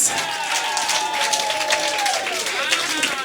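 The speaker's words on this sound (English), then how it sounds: "Another round of applause." A crowd of business partners in South Africa applauds steadily and loudly, the clapping continuous throughout, with a voice carrying over the top of it.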